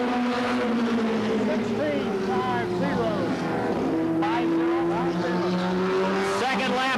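A NASCAR Goody's Dash race car on a qualifying lap at Anderson, South Carolina, in 1988, its engine screaming loud and continuous with rising and falling pitch as it passes. A voice is faintly present under the engine.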